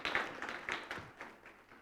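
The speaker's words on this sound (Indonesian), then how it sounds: "Ya, boleh tepuk tangan." Congregation clapping hands during a church sermon, a quick rhythmic run of claps at moderate distance, steady and fairly soft, with no talk over it.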